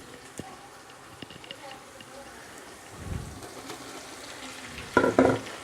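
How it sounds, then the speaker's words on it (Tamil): Onions frying golden in a pan for biryani: a low, quiet sizzle throughout, with a couple of louder stirring scrapes toward the end, close by. "ஆனியன் பொன்னிறமாக வதங்கிருச்சு வெங்காயம்"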